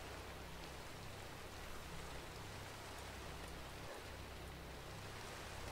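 Soft, continuous rainfall in Minecraft (All The Mods 3 modpack), a faint, uniform hiss with a low steady hum beneath it and no one talking.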